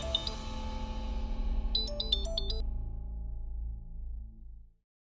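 A phone ringtone plays a repeating electronic melody with a short run of high chiming notes, then fades and cuts to silence.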